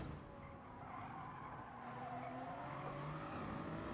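Tires skid and squeal on a race car sliding with oversteer in Gran Turismo Sport, a sustained screech over a steady engine drone lasting the whole stretch, with no talking.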